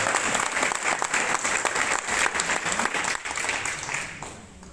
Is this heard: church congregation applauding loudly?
yes